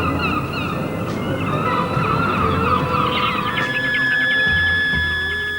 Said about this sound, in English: they have no escape from the never-ending cries of hundreds of seagulls